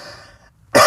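One loud, sharp cough bursts out close at the end, after a faint, quiet moment.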